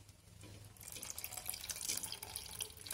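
Water pours over goat spleen in a cooking pan with chilli powder, turmeric and salt, a steady close splashing trickle that swells and then cuts off abruptly.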